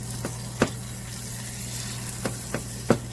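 Butter and cinnamon melting in a pot on the stove, a soft low sizzle under a steady hum, broken by a few sharp clicks or taps.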